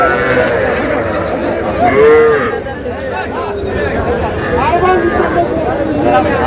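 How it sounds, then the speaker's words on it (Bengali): At a crowded Madaripur market selling young bulls and heifer calves, several moos rise over the hubbub of many voices talking, some near and some further off. "যেদিকে তাকায় সেদিকে বাছুর আর বাছুর"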